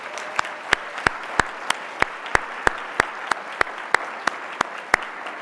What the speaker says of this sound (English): So let's give them the round of applause they missed last year.